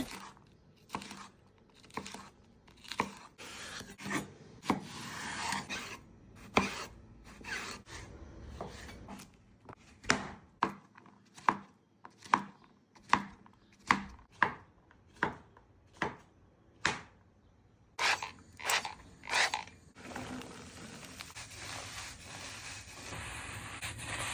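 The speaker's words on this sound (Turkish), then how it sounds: "Kinoalarımız haşlanırken dilediğimiz taze mevsim sebzelerini küp küp doğrayıp" A knife chops fresh seasonal vegetables into cubes on a cutting board, sharp rhythmic strikes in quick bursts with short pauses, close and clear, with faint scraping between cuts.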